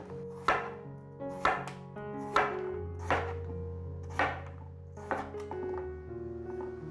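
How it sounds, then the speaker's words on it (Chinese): A knife slices through peeled potatoes on a cutting board, about nine crisp, evenly spaced cuts landing close and clear, with no talk. "把马铃薯切片"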